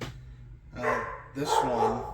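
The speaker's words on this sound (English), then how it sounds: "He's a beagle and he loves to bark at everything" Frank, a beagle, barks in two loud bursts close by, with someone talking over and between the barks.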